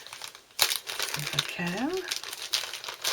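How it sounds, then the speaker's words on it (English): A small crinkly plastic bag from a Stampin' Up! Christmas craft kit being opened by hand, with close crackling and rustling bursts, while a person talks briefly over it. "let's open the little bag"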